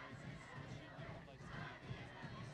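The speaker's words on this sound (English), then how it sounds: "As you hear the crowd" Spectators at a 2017 state quarterfinal high school football game at Juab High School in Nephi give a low, steady crowd murmur that sounds faint and distant throughout.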